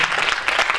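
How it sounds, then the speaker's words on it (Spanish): Brief burst of audience applause at a round-table panel on journalism, dense and continuous clapping at moderate volume, with no voices over it. "Sí, claro que tenemos que aplaudir."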